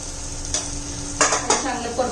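Masala spices with onion, garlic, chilli powder, turmeric and coriander powder being sautéed in a pan, a low steady sizzle broken by a few sharp scrapes and clinks of the spoon against the pan.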